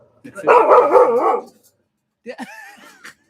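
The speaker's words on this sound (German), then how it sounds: "Er bellt den Zipfel vom Zelt an." King, a dog, lets out a long, wavering howl-like bark at a tent flap during a camping trip in Croatia, loud and close, followed by a shorter whining bark after a brief gap.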